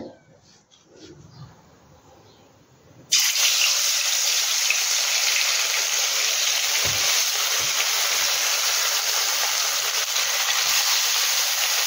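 Indian salmon (gurjali) dropped into hot oil sets off a sudden loud, continuous sizzle that stays bright and steady, with faint clatter beneath, following a quieter stretch.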